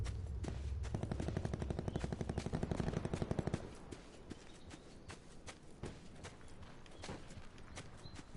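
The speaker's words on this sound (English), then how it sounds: "You hear all this gunfire, but you can't see where it's coming from" Gunfire rattles through a Call of Duty: Black Ops 4 battle royale match: rapid automatic bursts first, then sparser scattered shots cracking at varying distances, with no voices.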